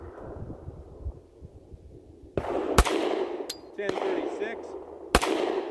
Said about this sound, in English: First up, SIG 229 over the chronograph. Let's go. HST 180 grain first.